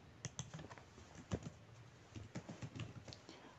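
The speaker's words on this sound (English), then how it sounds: "All you need to do, guys, is to just type the first name, that is Victor" Quick, uneven keystrokes on a computer keyboard while entering a first name into an Excel spreadsheet cell, close and clear with irregular clicking bursts and no voices.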